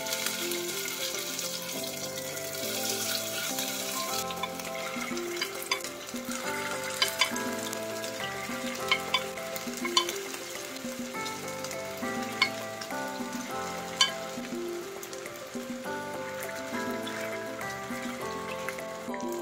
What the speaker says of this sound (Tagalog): Ayan, mainit na yung ating mantika. Pwede na natin ilagay yung ating meatballs.